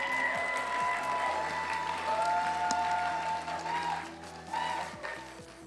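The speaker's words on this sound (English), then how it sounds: "So a big round of applause for Jenny, please." Crowd applause at a cosplay convention closing ceremony honoring the head of cosplay programming, steady dense clapping from a large audience in a hall with a hum underneath, easing slightly toward the end.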